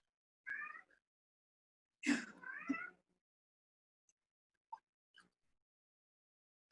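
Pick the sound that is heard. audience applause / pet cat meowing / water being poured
pet cat meowing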